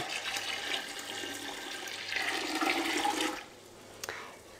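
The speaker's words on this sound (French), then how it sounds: "On va commencer par prendre de l'eau du robinet." Tap water gushes steadily into a pot for a few seconds and then cuts off abruptly, followed by a quieter trickle and a small knock.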